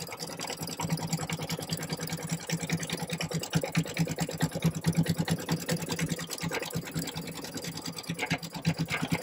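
A Brother Stellaire embroidery machine stitches a zigzag stitch on an applique patch, making a steady rapid mechanical buzz with a fast regular needle rhythm, close and continuous without pause.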